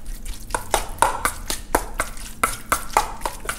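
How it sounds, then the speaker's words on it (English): Spicy salmon being stirred together with mayonnaise and sesame oil in a bowl, giving a run of close, wet squelching strokes at a steady rhythm, with no talking. "Okay, and mix."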